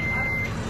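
A truck's reversing alarm sounds as it pulls out through a gate: one sustained electronic beep, fairly close, over a steady engine rumble.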